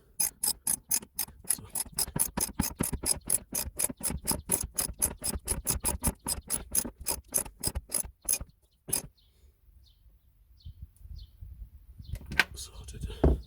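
A spanner ratchets rapidly in a long run of close metallic clicks, tightening LPG tank bracket bolts under a VW Crafter van, then stops; quiet follows before a few final clicks.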